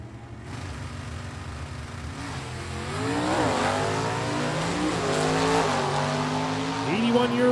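A 1967 Chevy Camaro and a yellow Chevy Corvette launch down a stick-shift drag strip, engines roaring loud and rising through several sharp gear shifts, with an announcer talking over the noise.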